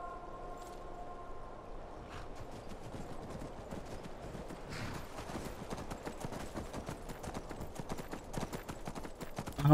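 Horse hooves clip-clop in a quick, steady rhythm in modded Skyrim Special Edition, close and continuous over a low ambient bed, with no talking.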